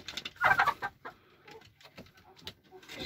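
Hens cluck and a rooster calls inside a henhouse holding birds of mixed ages, with soft scattered clucks and one louder burst, fairly close and quiet overall.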